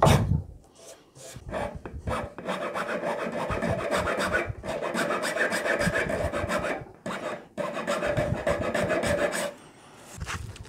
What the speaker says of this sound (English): Got a nice sharp card scraper, so it is kind of getting through that quite quickly.